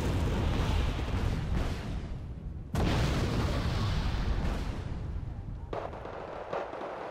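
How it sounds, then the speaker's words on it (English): Patriot missile batteries firing long-range shots in the Wargame Red Dragon video game, with dense rumbling launches and blasts that cut off abruptly partway through, then resume loud and sustained before easing into lighter bursts. "Patriot just getting some long range shots off"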